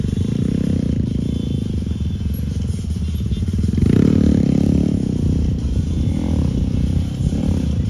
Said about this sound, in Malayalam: അപ്പാച്ചി മോട്ടോർസോളിൻ്റെ ആ ഒരു സ്റ്റണ്ട് പരിപാടിയാണ് നമ്മളിപ്പോൾ കണ്ടോണ്ടിരിക്കുന്നത്.